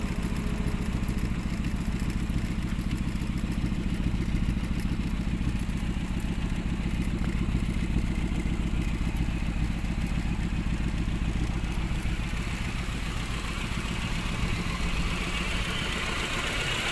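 Engine of a 1982 Honda Civic Excellent running at a steady idle, a continuous close rumbling clatter with even rhythmic knocking throughout, with no talking over it.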